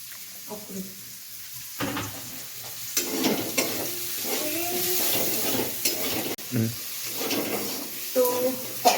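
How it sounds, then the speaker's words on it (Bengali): Garlic and onion sizzle lightly in a pan for fried rice, a soft steady crackle broken by stirring scrapes, with a person talking over it. "রসুন আর পেঁয়াজটা হালকা হালকা ভাজা হয়ে আসবে, বেশি ভাজা হবে না"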